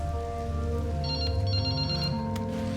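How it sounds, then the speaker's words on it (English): A phone rings in Resident Evil 9, a bright electronic trill that comes in two short bursts over a low, steady ambient bed, with no talking. "morning session is cut short by a phone call"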